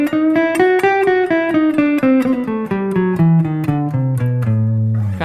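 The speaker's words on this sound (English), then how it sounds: "Another handy little passing tone you can throw in is the flat 5 note." Guitar lead line in the Dorian mode with a flat-five passing tone, a steady run of picked single notes stepping up and then gradually down, played clean and alone with no talk.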